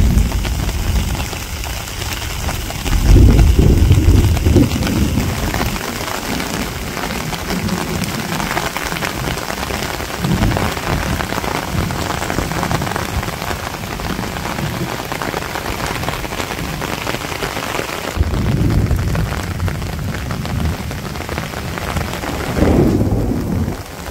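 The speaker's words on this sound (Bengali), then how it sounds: "যে সুন্দর বৃষ্টি হয়েছে, মন চায় আপনাকে একটু দেখাই" Heavy rain pours steadily on a Bangladeshi village, with deep rolling thunder rumbling loudly near the start and again toward the end, over constant hiss of drops.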